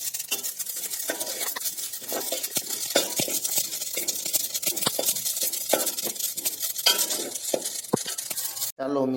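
Black sesame seeds being stirred and dry-roasted in a pan for sesame chikki: a steady scrape and rattle of a spoon against the pan with light clinks and a soft sizzle, continuous and close, ending in a brief cut.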